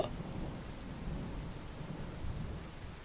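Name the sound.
rain with thunder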